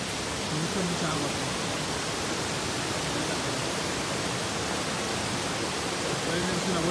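Small waterfall on a trail at Cerro de la Silla, running full after rain: a steady, dense rush of falling water that stays even and loud throughout, with no pauses or separate splashes.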